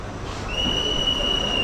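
A guard's whistle sounds at a station as a MEMU train from Tambaram to Trichy prepares to depart, a shrill sustained tone starting partway through and holding steadily over the platform's background rumble.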